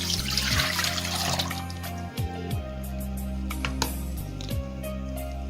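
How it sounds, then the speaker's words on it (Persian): Potato slices for homemade chips are lifted out of a bowl of cold ice water, with drips and light trickling close by over a low steady hum, no voices. "ما کارتاشکه ها را از آب میگیریم"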